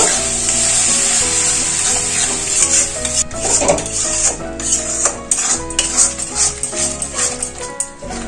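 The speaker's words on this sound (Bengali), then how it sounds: "মশলাটা একটু সময় নিয়ে কষাতে হবে।" Spice paste of ground coriander, ginger and green chilli with a little water being sautéed for arhar dal khichuri, a pan sizzling under clattering utensil scrapes and stirring, with a faint background hum.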